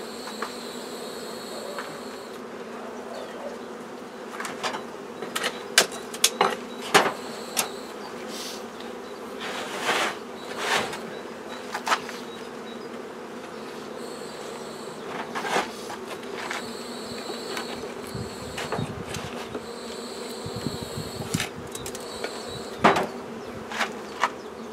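Honeybees hum steadily around an open hive while its floor is being cleaned, a close, continuous buzz broken by frequent sharp clicks and knocks from handling the hive parts, with no talking.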